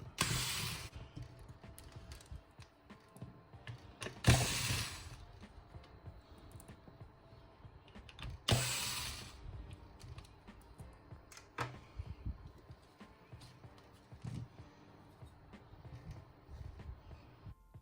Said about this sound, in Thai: เราก็จะเอาตัวแบ็กเก็ตออก